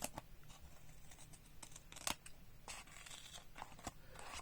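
Old, worn scissors cut paper in faint, irregular snips and rustles, with a few sharper crisp cuts spread across the stretch, all up close and quiet.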